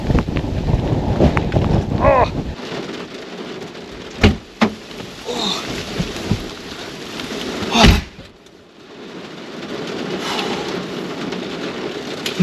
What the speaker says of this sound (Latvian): Sāka tā līt.